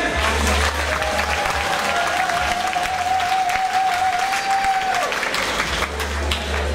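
Audience applause at a Russian team quiz game, a steady wash of clapping filling the room, with a sustained electronic tone running through the middle.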